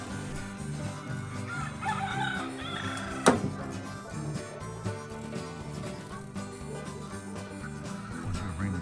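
Chickens cluck and call near a solar-powered homestead, with a busy mix of overlapping bird sounds and rustling, and one sharp knock partway through.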